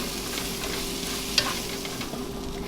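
Sautéed green beans tossed with dried cranberries and chopped toasted walnuts in a hot pan give a steady low sizzle with soft stirring scrapes and one brief sharp clink, with no talking.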